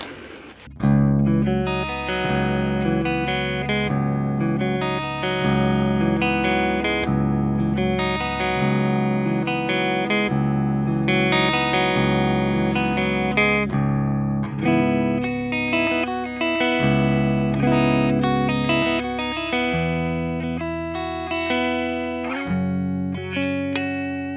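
An electric guitar plays through the clean channel of a Framus Cobra amp, a steady run of ringing chords and notes for about twenty seconds with no talking.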